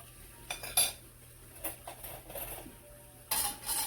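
Forks are pulled from a cutlery drawer with a few scattered metallic clinks and rattles, fairly quiet and close, with no talking.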